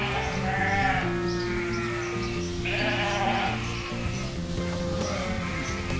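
A pet sheep bleats repeatedly at close range on a farm, its wavering calls overlapping with a steady background hum and faint buzzing of flies.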